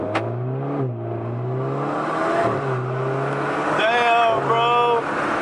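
A straight-piped Alfa Romeo, heard from inside on a drive in dynamic mode, accelerates with a loud droning exhaust that climbs in pitch through the gears, while a man exclaims briefly over it.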